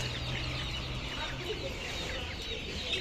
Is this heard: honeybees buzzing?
no